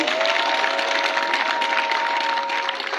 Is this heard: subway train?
no